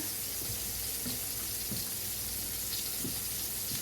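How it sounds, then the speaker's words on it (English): A kitchen tap runs steadily and fairly quietly into a sink for several seconds, with a constant rushing hiss and faint splashes. "we're going to do some water right out of the tap."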